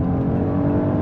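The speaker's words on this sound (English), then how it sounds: "yeah, this four-wheel drive really gets on it." A 2023 Genesis GV80 3.5T with four-wheel drive accelerating, heard as a brief, steady, moderately loud engine drone from inside the cabin.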